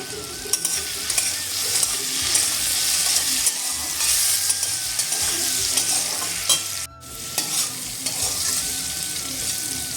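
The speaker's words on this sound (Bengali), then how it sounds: "এই আলু ভাজার মধ্যে আগে থেকে কুচানো পেঁয়াজটাও দিয়ে দিলাম" Potatoes fry in a pan while being stirred, a steady close sizzle with scraping stirs, a brief pause near the end, and faint music underneath.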